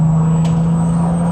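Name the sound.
turbo engine of Nissan Skyline R32 GTR revving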